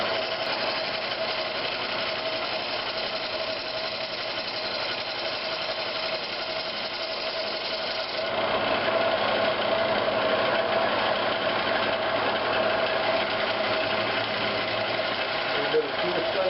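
Green oak bowl with a natural edge spinning on a wood lathe while a 1/2 inch ball gouge makes a pull cut on the outside, giving a steady, loud motor hum and scraping hiss that grows slightly louder partway through.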